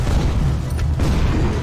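Gunfire from the Them and Us survival horror video game, with a low booming shot and a couple of quick bursts over a dense rumbling background.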